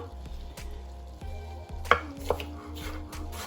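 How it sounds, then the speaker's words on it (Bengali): Knife chopping red onion into small pieces on a board, a steady run of soft low taps with a couple of sharper clicks, under a faint background hum, no talking. "এভাবে ছোট ছোট কুচি কুচি করে দিলাইমু।"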